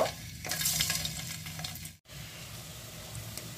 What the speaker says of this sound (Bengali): এর মধ্যে আমি প্রথমে পনিরগুলোকে ভেজে নেব।